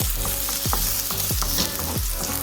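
Garlic frying in a pan with a steady, close sizzle throughout, broken by a few low clanking strikes of a utensil against the cookware at regular intervals; no one speaks.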